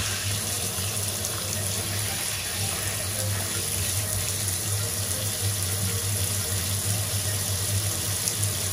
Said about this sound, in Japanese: シャワーをお借りして流してみますね